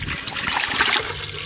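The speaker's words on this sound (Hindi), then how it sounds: "चावल उबालने के लिए पानी हम खुले ही डाल लेंगे।" Water poured into a pot on the stove for boiling rice in a home kitchen, heard as a steady, continuous splashing trickle that holds at an even level for the whole short stretch, close by and with no voices over it.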